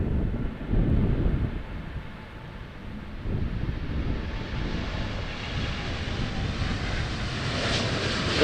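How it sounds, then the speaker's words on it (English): A KLM Boeing 787 taking off at Amsterdam Schiphol, heard as a steady low jet-engine roar with wind buffeting, continuous and moderately loud at a distance. "Next up we have a KLM 787 heading for Rio de Janeiro."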